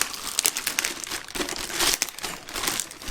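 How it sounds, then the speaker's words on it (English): A plastic bag wrapped around an unboxed item is handled close up, giving continuous crinkling and rustling that swells and fades over a few seconds. "although I touched the plastic bag"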